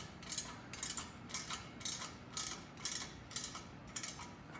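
A ratchet or wrench tightens parts on a 1967 Schwinn Typhoon bicycle, giving about eight quick, evenly spaced clicking bursts, quiet and close with no talk.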